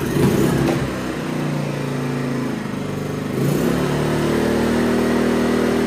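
A Philking PK2300i inverter generator runs under test at high revs with economy mode off, giving a steady, close mechanical drone that dips briefly and then rises again.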